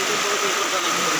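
A boat engine runs steadily on flood water in Hojai, a continuous mid-range drone with a tonal hum, loud and close with no pause.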